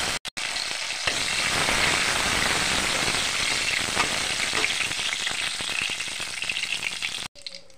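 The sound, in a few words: nuts and raisins frying in oil in a wok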